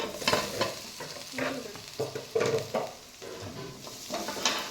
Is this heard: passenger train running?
no